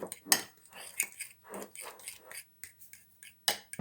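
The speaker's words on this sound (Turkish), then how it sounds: "İyice çırpalım omletimizi." Whisk or fork beating omelette batter made with eggs and corn flour in a bowl, with irregular clinking taps against the bowl's side, close and moderately loud, in short bursts with pauses.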